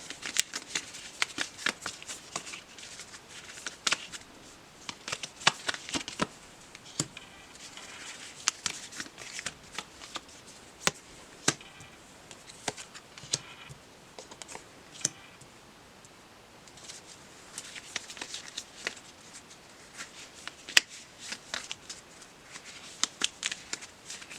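Tarot cards are shuffled by hand in a steady run of crisp riffles and soft clicks, close and fairly quiet, with brief pauses between bursts and no talk.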